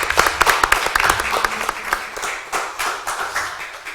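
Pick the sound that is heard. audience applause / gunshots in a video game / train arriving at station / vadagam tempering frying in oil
audience applause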